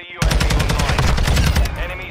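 Rapid automatic gunfire from a multiplayer match of the video game Call of Duty: Modern Warfare II, one loud sustained burst of evenly spaced shots lasting almost two seconds, up close with no talking.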